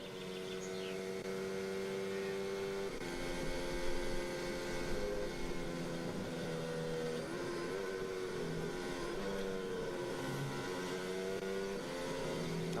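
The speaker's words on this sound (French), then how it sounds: "Écoutez l'accélérateur." A Formula 1 car engine on full throttle at Silverstone during 2024 British Grand Prix practice, a steady, high-pitched harmonic drone that holds continuously and fairly loud, with no talking.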